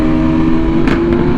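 A custom 2022 BMW S1000RR with an inline-four engine holds a loud, steady, close-up hum, with two short rev blips near the end.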